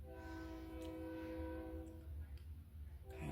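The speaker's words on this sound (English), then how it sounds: "that fucking train is out" A passing train rumbles loudly with a low, continuous drone and a sustained horn-like tone that fades over a few seconds, the heavy rolling noise persisting throughout.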